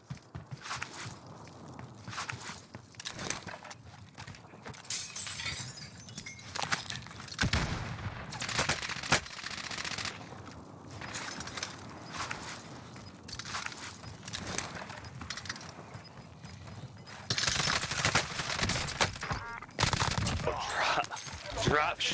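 DMR-14 rifle fire in a first-person shooter game, bursts of shots mixed with footsteps and other game sounds, under frequent excited talk from players throughout.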